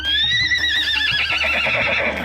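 A horse in a visual novel game gives a loud, close whinny that rises and wavers, with faint hoof clops beneath it and no talking.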